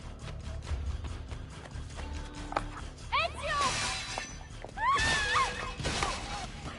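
Glass bottles shatter in the video game Assassin's Creed Brotherhood: two loud, bright crashes with tinkling debris rise over a busy background of mechanical clatter and game ambience.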